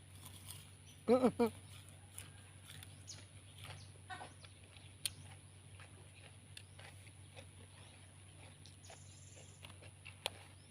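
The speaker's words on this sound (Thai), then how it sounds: "ไก่คุณแม่นะ" Chickens clucking nearby, a burst of loud clucks early on followed by scattered quieter sounds under a steady background hum.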